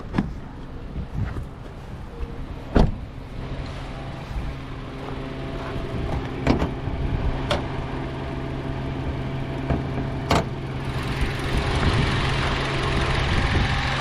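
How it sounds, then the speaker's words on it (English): A used car's engine runs at idle with a steady low hum and drone, broken by a few sharp clicks and knocks, heard close and alone for about fourteen seconds. "once I get that engine started"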